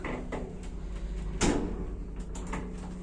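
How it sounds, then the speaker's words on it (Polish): The door of an old Translift counterweight freight lift, installed in 1993, closes with a single short knock and scrape near the middle, over a steady low mechanical hum. "O tutaj zamykamy. Są drzwi w takim tym slifcie czy innym głównie."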